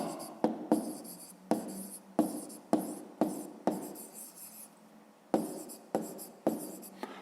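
A hand writes out a math answer on paper, close and quiet, with a dozen or so short scratchy strokes in an uneven rhythm separated by brief pauses.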